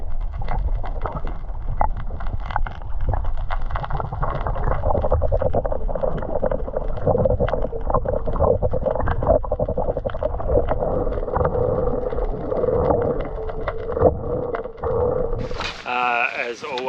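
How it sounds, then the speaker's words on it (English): Steady coastal wind buffeting a microphone on a small fishing boat off a beach, a constant loud rumbling roar that runs through the whole stretch, with a brief higher clatter near the end. "that wind is just starting to come in from the south"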